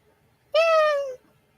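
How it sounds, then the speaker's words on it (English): A single drawn-out meow, close and clear with a slightly falling pitch, lasting just over half a second against near silence. "Meow. Meow."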